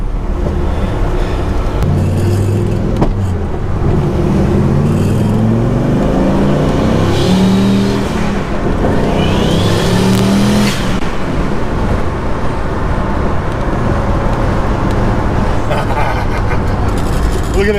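A 1968 Dodge Charger with a twin-turbo 780 hp Viper V10 swap accelerates hard, its engine note climbing through rising sweeps and gear changes, loud and close, with a rumbling drone that lasts throughout.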